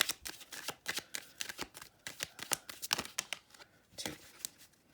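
Tarot cards being drawn and handled from a deck, a rapid series of crisp papery flicks and slides in uneven bursts, close and fairly quiet with no talking.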